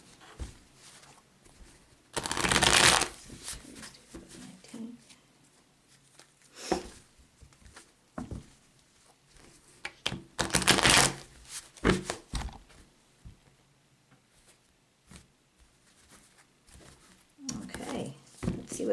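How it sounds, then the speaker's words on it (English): Tarot cards are shuffled in several short, close riffling bursts, separated by quieter pauses, with someone talking between them. "let me just shuffle up a couple more times"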